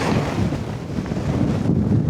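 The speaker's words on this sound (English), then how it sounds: "It's not perfect, it's a bit gusty in different directions." Gusty wind buffeting a Nordisk Svalbard 1 SI tent during Storm Amy, a loud continuous roar with rumbling microphone wind noise that swells and eases without a break.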